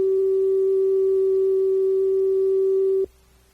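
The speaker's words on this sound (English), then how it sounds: "Periodically, you will hear this tone." A slide-advance tone on a narrated cassette: one steady, pure electronic beep held for about three seconds, then cut off abruptly, leaving a faint hum.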